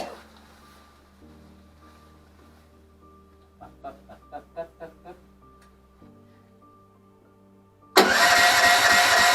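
Phoenix 400 mini excavator engine cranked by its starter: after a quiet stretch, a rapid series of chugging pulses leads to the small engine catching and running loudly at the end.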